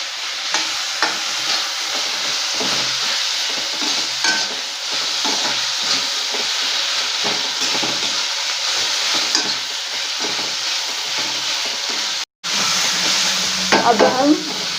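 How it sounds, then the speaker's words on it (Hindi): Peas are stirred into cauliflower frying in a pan for a hotel-style gobhi matar sabji, with a steady close sizzle and repeated scraping stirs throughout and a brief dropout near the end. "मटर भी अच्छे से मिक्स करके लेंगे।"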